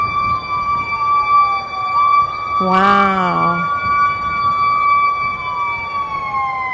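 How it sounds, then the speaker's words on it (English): A very high-pitched siren wails in steady, piercing tones that glide slowly up and down. A person gives a brief exclamation partway through. "Holy smokes, what kind of siren is that?"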